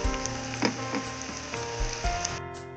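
Eggplant sizzling in a pan with shrimp paste for pork binagoongan, a short bright crackle and spatter over a low hum, with a few louder pops as pieces settle.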